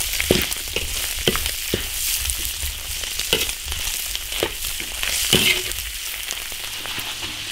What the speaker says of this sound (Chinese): 烧油炒牛肉，花椒炝锅，大蒜、干辣椒，下牛肉， 把牛肉稍微煸一下。